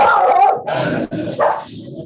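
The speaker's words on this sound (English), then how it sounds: "my dog says hi." A dog barks and yips near the microphone in a short series of bursts during a meeting, loud and alone, with no talk over it.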